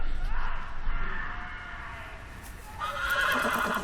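A horse in the Game of Thrones video game gives a loud, drawn-out whinny. It rises and then fades, with a brief shuffle of movement near the end.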